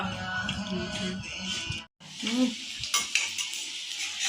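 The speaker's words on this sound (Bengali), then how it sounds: "তো এই করে প্রত্যেকটাই ভেজে নেব।" Vegetables, green chillies among them, frying in a pan with steady sizzling, the spatula stirring and scraping against the metal, a brief pause partway through, then louder bubbling sizzle.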